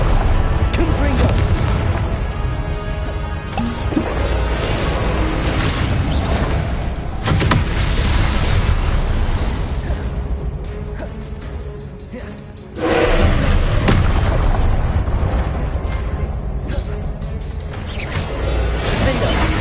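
Confringo blasting-curse spells go off in a Harry Potter video game as loud booming blasts and whooshes, one big burst arriving midway after a brief dip, layered with dense game effects and a voice calling out spell names.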